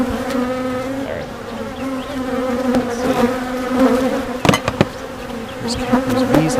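Honeybees buzzing steadily at a hive during an inspection, a dense continuous drone with close passes of individual bees flying near, no talking.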